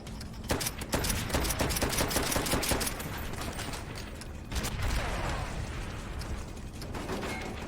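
Rapid bursts of gunfire from Call of Duty: World at War, played on an Xbox, crackle in quick repeating volleys with mechanical clatter mixed in. The shooting is loud and close, with a brief lull midway before more shots.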